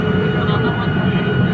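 Loud, steady roar of an airplane engine at close range as the plane takes off on a Dubai to Amritsar flight, a constant broadband rumble with a faint tonal whine.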